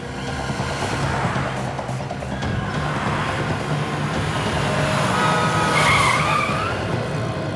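A taxi car approaches and pulls to a stop on a street, producing a loud, sustained engine and tyre rumble with a brief squeal-like whine near the end, heard alone without talking.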